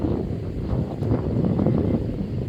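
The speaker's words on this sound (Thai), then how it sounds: "วันนี้ลมแรงนะคะทุกคน" Strong wind blows outdoors on a rainy day by the water where swans gather, a steady loud rumbling buffet across the microphone.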